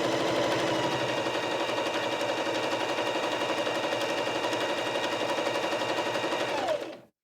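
A Viking E 20 sewing machine stitching decorative patterns runs in a fast, even mechanical chatter of needle strokes, close and loud, then stops abruptly at the end.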